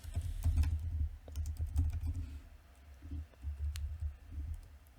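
Computer keyboard typing, a steady run of close keystrokes and clicks with small pauses, while a trading bot for a cryptocurrency exchange is being coded; no one speaks.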